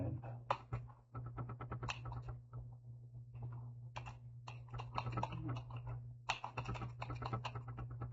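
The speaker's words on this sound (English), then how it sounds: "So I'm just going to type in my name" A name being typed on a computer keyboard: quick, irregular clusters of light key clicks with short pauses, close and fairly quiet over a faint steady hum.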